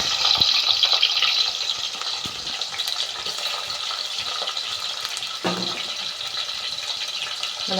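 Mustard seeds and onions fry in hot oil with a loud, continuous sizzle and crackle, close up. Occasional stirring clatter sounds through it, and no one speaks.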